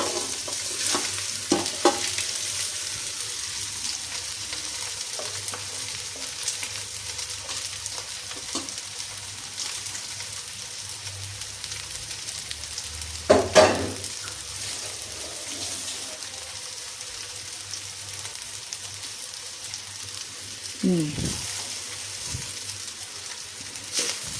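Basmati rice frying in ghee for payasam, a steady soft sizzle with occasional stirring scrapes, close and fairly quiet, with no one talking.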